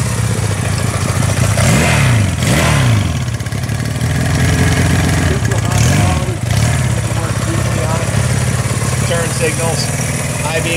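A 1971 Honda CB175 Super Sport motorcycle engine runs close by, idling with a few throttle blips that rise and fall; someone talks briefly over it.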